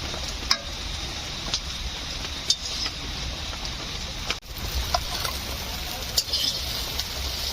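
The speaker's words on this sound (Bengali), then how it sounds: "এখন বন্ধুরা মাছগুলো একদম লাল করে ভাজতে হবে" Climbing perch fish fry in hot oil, giving a steady sizzle with occasional stirring clicks and brief pan knocks throughout, close up and without voices.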